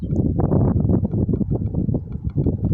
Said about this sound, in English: This wind is something else out here.